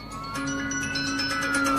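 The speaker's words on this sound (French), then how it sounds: "il y a plein de voitures de police avec les sirènes allumées" Police car sirens blaring while several police vehicles pass, a steady wailing tone rising and holding over a continuous background, fairly close and loud throughout, with no talking.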